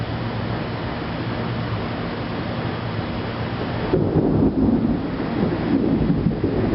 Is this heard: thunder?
yes